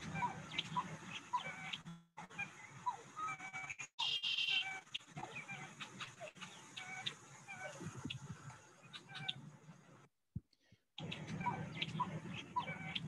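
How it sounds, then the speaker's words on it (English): Grebes give repeated calp-calp calls and gallinules whine from a marsh, a steady mix of scattered bird notes and animal sounds at moderate distance, with a couple of brief silent breaks. "you can hear the whining notes of the gallinule."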